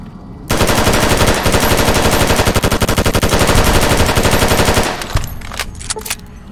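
Rapid automatic gunfire in modded Fallout: New Vegas rattles off in a loud, continuous burst for about four seconds, then breaks into a few scattered shots and clicks.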